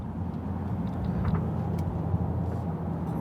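Dodge Durango R/T with a straight pipe exhaust in sport mode, a steady low engine rumble from inside the truck with no talk, some loose items faintly rattling in the back.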